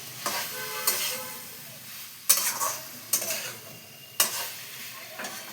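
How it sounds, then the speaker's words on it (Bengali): Chana dal is fried with spices in a pan, giving a soft continuous sizzle broken by four or five sharp scraping stirs and utensil knocks, close up, with no voices. "তো এইটা দিয়ে সব আমি কষিয়ে নিচ্ছি মশলার সাথে।"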